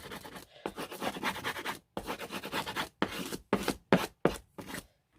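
A bone folder rubs and scratches over paper as it is smoothed down while making a book jewellery box, in close, brisk bursts of scraping that grow shorter and more clipped toward the end.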